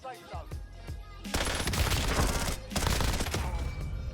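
PPSh submachine gun in Warzone rattling off two sustained, loud bursts of rapid automatic fire, the first starting after a short lull with scattered quieter shots, a brief gap between bursts.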